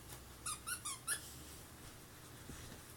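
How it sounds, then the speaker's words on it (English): A dog's squeaky toy gives four quick, high, bright squeaks in a short burst, then goes quiet over a faint room hum. "She wants to make it squeak."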